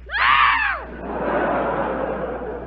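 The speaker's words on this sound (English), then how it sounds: "For Sinatra, they swoon. For me, they scream." Studio audience at a 1945 radio comedy broadcast lets out a loud burst of shrieking screams, then dissolves into sustained crowd noise and laughter that fades slightly, with no talk over it.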